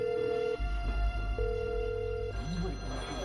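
Prison telephone rings in two long electronic tones separated by a short gap, clear and moderately close over a low background hum, without any talk.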